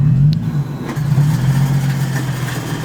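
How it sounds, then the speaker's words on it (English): A failing Denso A/C compressor on a 2003 Lexus IS300 makes a loud, steady, close drone under a rough engine idle, with a continuous low hum and grinding texture. There is no talking. "My compressor took a dump on me, and it is just making the most horrible noise I've ever heard."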